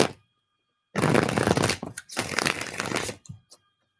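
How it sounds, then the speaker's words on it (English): Playing cards are set down and shuffled close by in two long, dense riffling bursts with a short tap at the end and silence on either side. "I'm gonna put them cards down."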